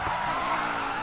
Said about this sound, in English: That was a fucking tight corner now. And it's still a drift.